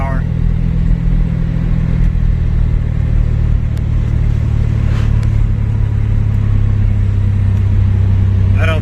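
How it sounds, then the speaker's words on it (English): A Chevrolet S10 pickup with a tired, low-compression engine that lacks power runs while driving, giving a loud, steady low rumble that holds unbroken from start to finish. "I'm pretty sure it's just the engine itself is a little cooked, but hey, she's running. She's moving."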